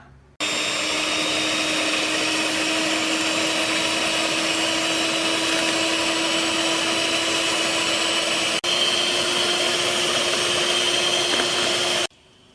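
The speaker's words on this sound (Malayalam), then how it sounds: "ഇതിന് ബീറ്റ് ചെയ്തെടുക്കാം." Electric beater whipping 250 ml of freezer-chilled whipping cream in a bowl, a loud steady motor whine with sharp tonal hum that starts abruptly, runs unbroken, and cuts off at the end.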